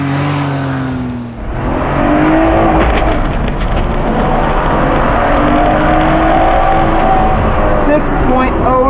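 A car with weight stripped out for a reduction test revs hard on an acceleration run, its engine note rising loud and close, dipping briefly at a gear shift, then climbing again steadily to the end.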